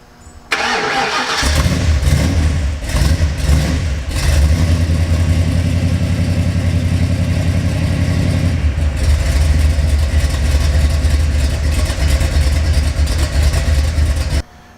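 A 1991 Ford F-150 pickup with a built engine and headers cranks briefly, fires up and settles into a loud, steady, rumbling idle close by, with a few revs early on and no talking.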